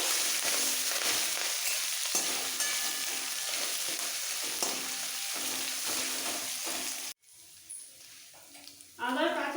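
A pinch of asafoetida fries in oil as a tempering for raw mango rice, a steady close hiss and sizzle that cuts off abruptly near the end, followed by faint sounds and a voice.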